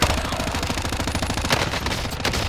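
Rapid, dense automatic gunfire in a Call of Duty match with snipers overhead, a steady close rattle of shots running throughout and a few sharper cracks standing out near the end.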